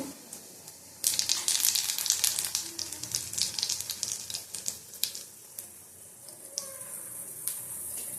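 Nigella seeds hit hot oil in a wok with a sudden loud sizzle that crackles steadily, then gradually softens into lighter popping and hissing.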